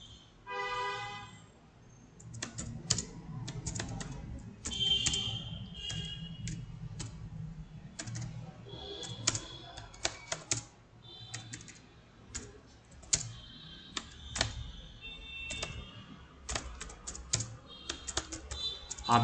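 Keys clatter on a computer keyboard while information is typed into an online form, with steady irregular tapping throughout, bursts of quicker strokes, and a faint hum of background noise underneath.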